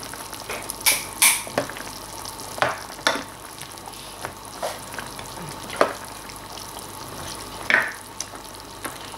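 Chicken bouillon cubes crushed and stirred into a pot of tinolang manok, heard as scattered clinks and scrapes of a utensil against the pot over a faint bubbling sizzle, with no talking.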